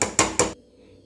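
Ragi flour dough for murungai keerai adai is mixed in a bowl, making three quick, close scraping clatters in steady rhythm before it falls silent.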